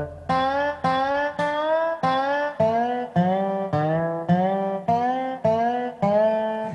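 Dobro resonator guitar played with a slide, nearly every note gliding up into pitch; about nine sliding notes in a steady, even rhythm, close and clear with no talking.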